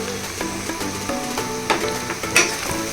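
Dried red chillies and biryani spices sauté in a hot pan, giving a dense continuous sizzle with occasional clicks and stirring scrapes, close up and without speech.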